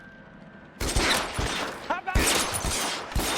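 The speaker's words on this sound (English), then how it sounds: "Yeah, I see gunshots, but I don't know where they are." Bursts of gunfire ring out in the LA Noire video game, several sharp, loud shots in quick succession after a quiet start, with brief speech in between.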